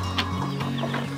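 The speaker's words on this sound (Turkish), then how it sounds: "Sizlere yeni civcivlerimi göstereceğim." Newly hatched chicks peep softly on a village farm, with faint high chirps over a steady low hum and background noise.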